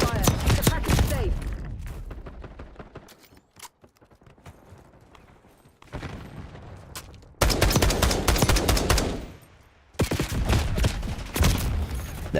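Black Ops 6 gunfire rattles in loud, fast automatic bursts separated by short lulls, with quieter scattered shots in between and heavy sustained volleys later; a voice talks briefly in places.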